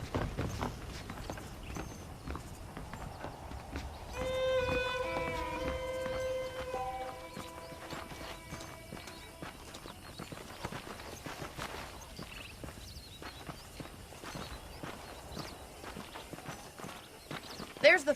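Horse hooves clip-clop in Red Dead Redemption, a steady walking rhythm under game music and ambient sound, with a character speaking over it.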